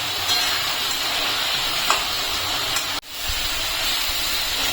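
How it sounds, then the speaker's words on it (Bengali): Masala spice paste fries in a pan for a fish curry with drumstick, potato and eggplant, giving a loud, steady, close sizzle that drops out briefly partway through. "এখন এই মশলাটাকে একটু কষিয়ে নেবো ভালো করে।"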